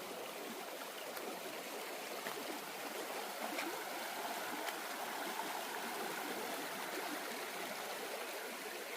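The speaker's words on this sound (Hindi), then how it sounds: "पानी की आवाज़ है ना" A jungle stream during the monsoon, water flowing and gurgling in a steady, continuous rush heard alone at moderate distance, with no voices.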